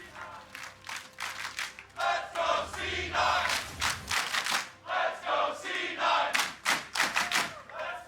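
A large esports arena crowd at Rift Rivals 2019 League of Legends match cheers and claps loudly, with bursts of rhythmic applause and shouting rising and falling throughout.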